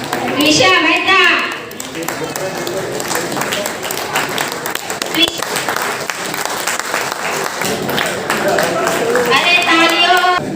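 Audience at a Brahmin community honour ceremony in Navi Mumbai claps steadily throughout, a dense crowd applause mixed with children's voices and chatter.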